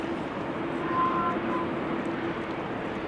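A Boeing 777-200 airliner landing at Amsterdam Schiphol on a showery day, a steady broad jet roar heard from a distance with a faint engine whine, continuous and even throughout.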